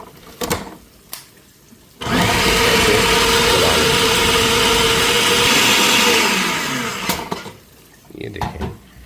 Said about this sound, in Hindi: ये 8 पीस हम इसके अंदर थोड़े से छोटे छोटे करके डाल देंगे, तो उसके बाद इसको क्रश कर लेंगे।